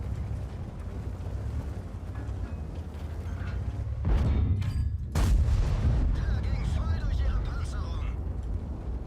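Heavy tank guns firing in World of Tanks, VK 45.02 A and B, two loud booming shots with long rumbling tails over steady low engine and wind noise, with someone talking throughout.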